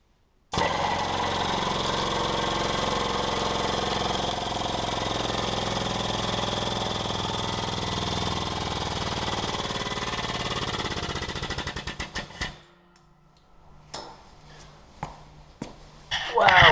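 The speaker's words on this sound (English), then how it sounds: "I'll use the pneumatic setup and give that a quick crush." Homemade hydraulic shop press run from a pneumatic setup crushing a part, a loud steady pump drone for about eleven seconds, then a sputtering stop and scattered clunks and hisses.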